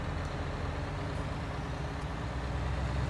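A bulldozer strains to push thick mud in Farming Simulator 19, its engine giving a steady, loud, low diesel rumble throughout.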